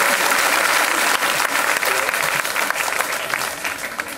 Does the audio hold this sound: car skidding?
no